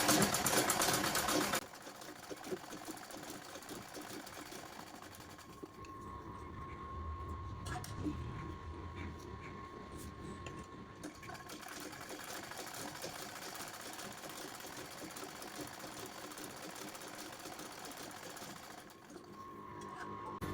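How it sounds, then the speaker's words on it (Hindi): A sewing machine stitches a blouse seam, running in a steady close mechanical whir with a continuous rapid needle rhythm for the whole stretch, loudest at the very start and briefly easing near the end. "अब इसको पक्का करने के लिए एक सिलाई"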